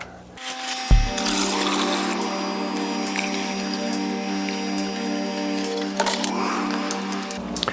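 Water circulates through the buckets of a DIY three-plant RDWC hydroponic system in a grow tent, a steady trickling and gurgling flow with a faint hum and a couple of small knocks.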